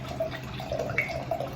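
Wine trickles and splashes into a glass for over a second, a soft gurgling pour with faint background hum.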